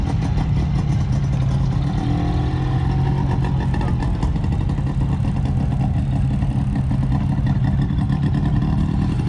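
A two-stroke Mazda Porter engine runs steadily at an outdoor American car show, a continuous close mechanical drone with busy background noise throughout.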